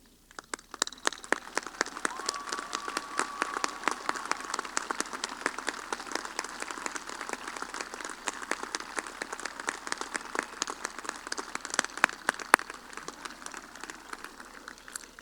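A graduation audience claps for military members standing at a 2024 high school ceremony, the soft crackling patter of many hands sustained and fairly distant, swelling slightly toward the end.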